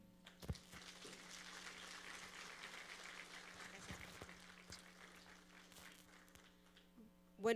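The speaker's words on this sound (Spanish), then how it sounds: "Para eso yo pido un aplauso para Lalita." A gathering claps for Lalita at what sounds like a church or community meeting, fairly quiet, scattered applause over a steady electrical hum, with a few louder bumps and a brief sharp noise at the close.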